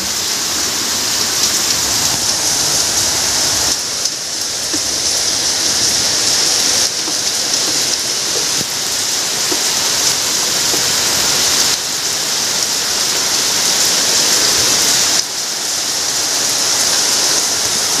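Heavy rain pours down steadily as floodwater gets into a house and fills the stairwell area to the brim; a dense, loud, continuous wash of falling water with no voices.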